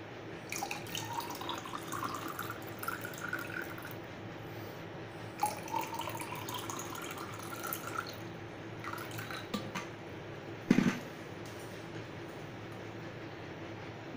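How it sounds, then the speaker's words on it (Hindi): Cold water poured into a jug for mango squash, a faint soft trickling over steady background hiss with one brief louder splash near the end. "डालेंगे ठंडा पानी"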